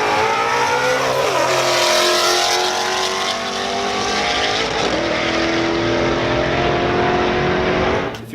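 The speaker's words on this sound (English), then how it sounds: "Got the urge just to kind of, you know, take the car down the track a few times." A Mustang fitted with a Paxton supercharger, forged rods and pistons, runs down a race track, engine revving loud and close with rising, falling gear-change sweeps and supercharger whine before cutting off at the end.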